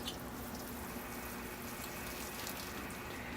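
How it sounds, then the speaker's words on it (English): Water poured from a can or hose onto a freshly repotted dawn redwood bonsai, a steady, even splashing and trickling hiss that continues without pause. "So here I go with the watering."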